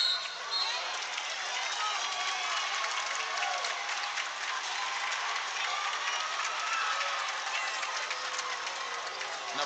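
A high school basketball crowd at a playoff game cheers and roars in a large gym, a dense, continuous wash of noise with voices mixed in, steady for the whole stretch.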